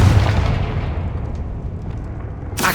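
Fiery Confringo blast spell in the Hogwarts Legacy video game: a loud, rumbling explosive burst with a low boom that decays into a sustained roar, ending in a sharp crackling burst.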